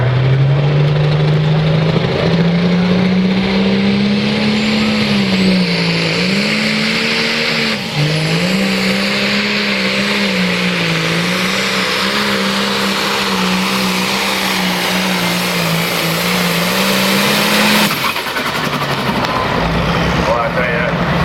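Pulling tractor at a tractor pull competition, a loud sustained engine drone with a wavering pitch and brief dips while revving under heavy load, with an announcer talking over it.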